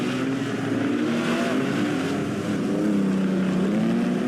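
Engines of 1950 Grand Prix race cars at the Pau Grand Prix run side by side through a fast left-hander, giving a loud, continuous droning roar whose pitch wavers and shifts over a few seconds.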